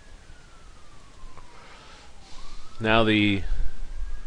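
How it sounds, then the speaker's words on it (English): Emergency vehicle sirens pass outside a house, a faint wailing sweep rising and falling under a voice, while a loud horn-like blast sounds close by partway through. "wait till all the sirens go by my house"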